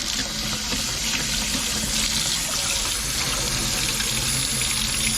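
Cold water runs from a new sink's faucet fed by PEX-B supply lines in a steady, hissing stream for several seconds, close and constant, with no voices over it.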